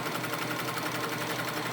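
A Highlead zig zag sewing machine stitches a long stitch, its needle running in a fast, even, continuous mechanical chatter, close and steady with no talking.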